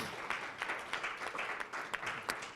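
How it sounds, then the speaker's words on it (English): Faint, brief applause from a conference audience at an anti-racism gathering, scattered claps rising and falling steadily, sounding distant and thin. "So let's give ourselves a round of applause."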